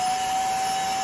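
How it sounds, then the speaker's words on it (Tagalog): A household vacuum cleaner running steadily, a loud, close, continuous whine with a constant pitch and a broad rushing hiss, with no voices. "Testingin natin kung meron kasi si Mia rito ang vacuum."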